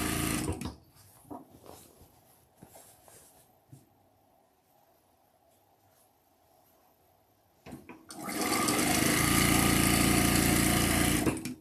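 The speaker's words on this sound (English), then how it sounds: "always let that fabric relax before you send it through your sewing machine" A sewing machine stitching stretchy fabric quilt blocks runs in a loud, continuous whir near the end, after a stretch of quiet handling sounds and small clicks.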